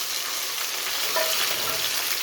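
Tomatoes frying with browned onions in a hot pan, a bright continuous sizzle and crackle up close, with faint stirring scrapes and no voices.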